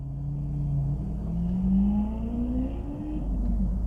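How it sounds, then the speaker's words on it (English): A bright yellow Lamborghini Aventador drives past at moderate distance, its engine note climbing in pitch as it accelerates and then fading, with no voices. "That is a bright yellow Lamborghini Aventador."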